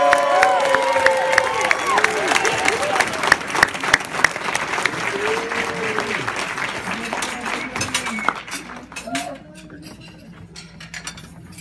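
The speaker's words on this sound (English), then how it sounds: "So please welcome, with a really loud fanfare of applause, a man I'm proud to call my dentist and my friend, Dr. Steve Susskind" A crowd gives sustained clapping with scattered cheers and whoops, loud at first and thinning out toward the end, with voices calling out over it.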